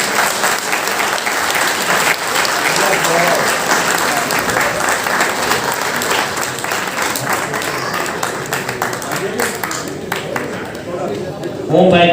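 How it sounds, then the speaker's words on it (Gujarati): Dense, sustained applause from a large audience at a Brahmin community honours ceremony in Navi Mumbai, steady and loud throughout before trailing off near the end, with some voices murmuring underneath. "એક બધા જોરદાર તાળીઓ સાથે"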